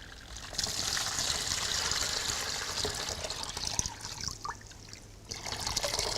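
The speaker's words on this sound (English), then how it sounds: "So if you could put a cup of cold water in there." Cold water poured into a bucket during a hydrotherapy hot-and-cold treatment demonstration: a steady, close splashing trickle that runs the whole time with no talk over it.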